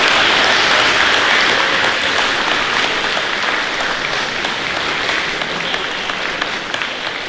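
A school audience at a middle school academic awards ceremony applauds steadily and loudly, dense clapping holding for several seconds with no voices over it.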